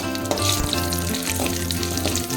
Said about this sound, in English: Now let the mustard seeds splatter and the urad dal turn into a nice golden brown color.